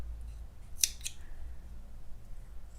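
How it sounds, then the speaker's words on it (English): Scissors snip through crochet yarn in a single quick cut, close and fairly crisp, with a second lighter snip just after, against quiet room background. "You're going to chain 1 and cut your yarn."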